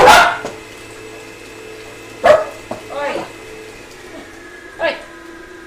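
Two dogs staying in a home bark in a few sharp separate bursts, close and loud, with a short yip between, while a person calls out once.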